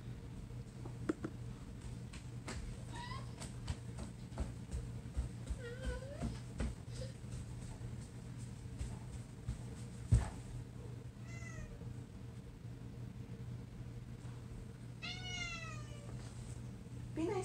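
A cat meows several times in rising, wavering calls, mostly in the latter half, over a steady low indoor hum with faint scattered clicks and no speech.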